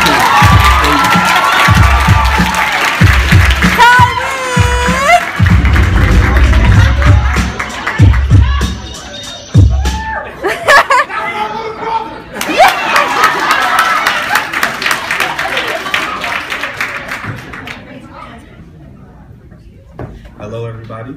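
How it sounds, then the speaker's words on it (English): An audience at a 2015 spoken word event claps, cheers and whoops loudly, with children's shrieks and shouting voices mixed in; the noise peaks early, then gradually thins and fades toward the end. "Either you guys have to clap longer, or y'all need to walk faster."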